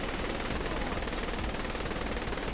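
Rapid automatic gunfire from the video game Saints Row: The Third crackles in a dense, continuous burst that fills the whole moment at steady loudness.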